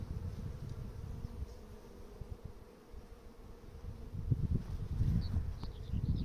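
Honeybees buzz steadily around an open 10-frame beehive, a dense, continuous hum close by that swells louder toward the end, with no talking.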